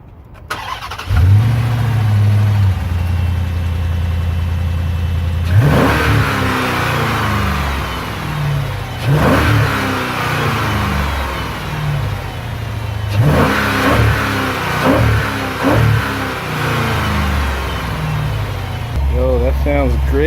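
A Chrysler 300C HEMI V8 with a drop-in air filter cranks and fires up, then settles into a loud idle broken by several sharp throttle blips, close by, with someone talking briefly near the end.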